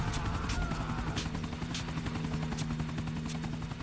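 Helicopter in the video game GTA IV, its rotor beating in a steady, loud, continuous thrum with a whining engine tone, close by and filling the clip without talk.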